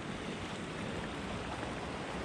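A waterfall near Scarborough gives off a constant broadband rush of falling water, a steady hiss with no pauses, heard from a moderate distance.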